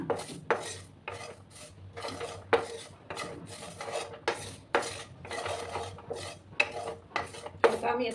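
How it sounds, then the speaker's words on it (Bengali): Dry roasting in a pan while cooking Rui fish curry: repeated scraping and rasping strokes of a spatula across the pan surface, a steady rhythmic stirring close up with light metallic clinks. "এটাকে আমি হালকা ড্রাই রোস্ট করে নেব"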